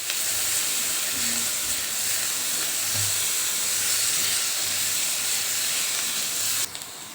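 Onion with ginger-garlic paste sizzles and hisses steadily in a pan, close and loud, for a soybean curry. The frying holds at an even level throughout, and a faint low stirring rumble sits underneath.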